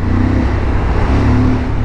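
Steady close engine drone from a Suzuki V-Strom 1050 motorcycle, an even mid-pitched hum held throughout with no voices.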